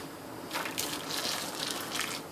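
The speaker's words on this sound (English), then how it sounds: "Pour it right over the clams." Boiled water poured from a container over a pile of clams, a steady splashing gush with a few surging peaks, fairly close and continuous for a couple of seconds.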